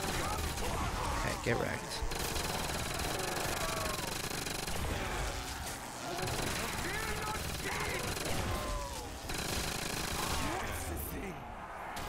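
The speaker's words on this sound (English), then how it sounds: "The sound for this gun is really loud though." Loud, sustained gunfire from a weapon in Call of Duty World at War custom zombies, with rapid shots and dense game noise filling the whole stretch while someone talks briefly over it.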